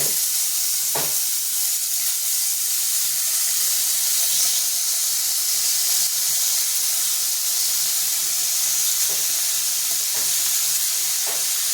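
Fish frying in a pan gives a steady, loud hissing sizzle that holds evenly throughout, with a couple of brief crackles and no talk.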